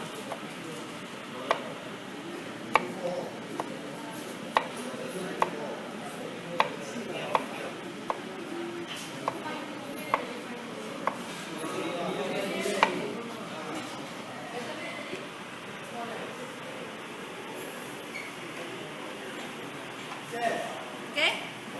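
A knife chops vegetables into fine brunoise on a board, a run of quick, evenly spaced taps close by that then slows and thins out, with voices talking over the cutting.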